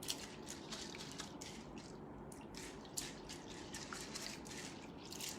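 Soaked lentils being rinsed in water for medu vadai in a home kitchen: steady close sloshing and dripping with splashy bursts, continuous throughout.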